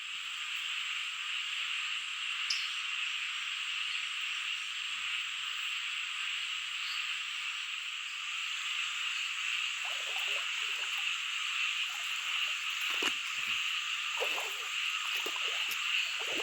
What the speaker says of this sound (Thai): กบนะ